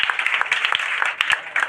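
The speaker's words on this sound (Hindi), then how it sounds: "ताली हो जाए इनके लिए भाई" An audience claps for a student topper at a district board exam honour ceremony, a short burst of brisk, dense clapping close by without a voice over it.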